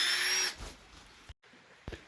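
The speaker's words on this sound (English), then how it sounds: "I then use an extended drill bit to drill through the posts and set the eye bolts" A power drill with an extended bit bores through wooden posts for eye bolts, a loud high whine for about half a second before stopping, followed by a few soft knocks.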